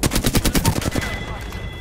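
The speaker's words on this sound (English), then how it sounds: "We got some enemies right here. They're attacking. Getting shot at!" Automatic gunfire from an Apex Legends fight rattles out a fast, loud, evenly spaced burst of about a dozen shots, then trails into ringing echo and game ambience.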